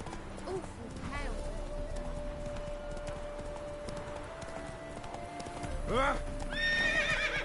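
Roach, a horse in The Witcher 3, gallops with steady clip-clop hoofbeats and whinnies loudly near the end, while a man gives a brief shout.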